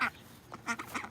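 Pet duck gives a few short nasal quacks in quick succession, close by and moderately loud, in an indoor room with no talking.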